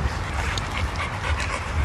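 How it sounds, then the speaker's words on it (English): A tired dog pants steadily in a garden, a continuous rapid breathy rhythm close by with no talking. "Just doing a bit of editing in the garden with a very tired doggy."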